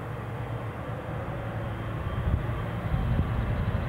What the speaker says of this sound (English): The Air France Embraer 190 long range has pushed back and is trundling out.